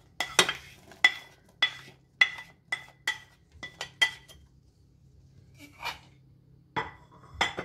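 Chopped red and green peppers and onion go into hot frying oil in a pot, heard as a run of sharp clinks and metallic taps of a utensil against the pot with a faint sizzle underneath, fairly close.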